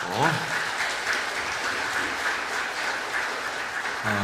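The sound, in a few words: congregation applauding in church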